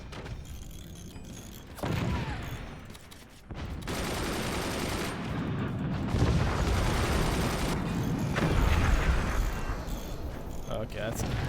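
AP sniper fire rattles across a Forts artillery-battle game as a loud, dense fusillade of shots and booms. It starts after a quieter opening and keeps up in uneven bursts with brief lulls, and a voice speaks over part of it.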